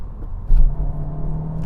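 Toyota GR Yaris and Honda Civic Type R accelerating hard in a drag race, heard as a loud, steady engine drone and road rumble with a brief louder surge partway through, no speech.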